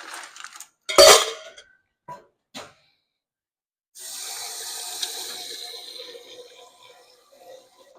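A few metallic clinks and clatters from an ice scoop and metal ice tin, then a steady stream of water poured over the ice to chill a bottle of white wine, close and moderately loud.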